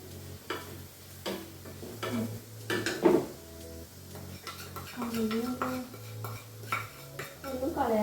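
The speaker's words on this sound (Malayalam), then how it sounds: "നമുക്ക് ഈ മസാലയിൽ മിക്സ് ചെയ്ത് കൊടുക്കാം" Noodles being stirred into masala in a pan, with scraping and clinking of a utensil against the pan, light sizzling underneath, and a voice talking in between.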